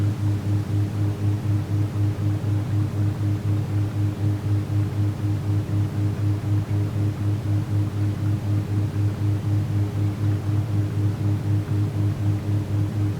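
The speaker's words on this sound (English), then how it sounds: "that static noise basically is kind of like pulling your vision inward" Steady static white noise fills a binaural-beats sound design piece, with a constant hiss across the range layered over sustained low droning tones that pulse gently and evenly throughout.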